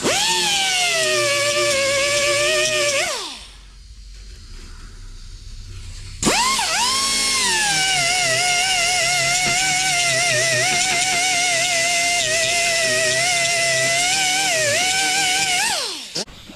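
A power tool grinds down fiberglass nubs on a 1977 Buick Regal grille, a loud high-pitched whine that runs, winds down and pauses, then starts up again and holds steady before stopping.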